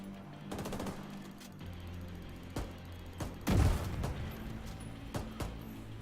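Gunfire and grenade blasts in a video game: bursts of shots and a couple of heavier booms over a steady game background, no talk.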